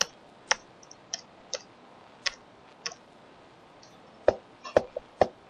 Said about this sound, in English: I'm trying to press the keys.